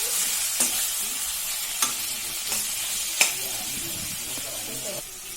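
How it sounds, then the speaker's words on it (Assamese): Brinjal with curry leaves and green chilies fries in hot oil, a loud continuous sizzle close by, punctuated by regular spatula scrapes and taps as it is stirred. "তাৰপিছত ভালদৰে এনেদৰে লৰাই দিব।"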